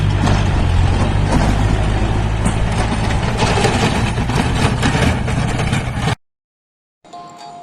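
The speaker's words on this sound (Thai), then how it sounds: "ก็ใส่รถไถนะครับจ้างเพื่อนมาปั่นนะครับ" A tractor engine with a rotary tiller churns a rice paddy under hot weather, a loud, steady low rumbling drone close by that cuts out abruptly, followed by a short gap and then a fainter, quieter engine hum.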